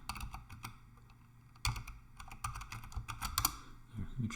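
A password being typed on a computer keyboard: quiet, irregular key clicks in short runs with brief pauses, close and alone without talk.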